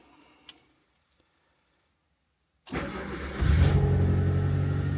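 After near silence, a Proton Satria GTi engine cranks and fires up following a coil-on-plug conversion, then settles into a loud, steady running note close by.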